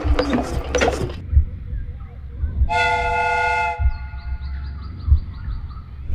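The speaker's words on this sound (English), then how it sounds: "the steam whistle is ready to be used." The steam whistle of a replica train in a Sherlock Holmes video game gives one loud, clear toot of about a second, after a burst of hissing steam and over a low, thumping rumble.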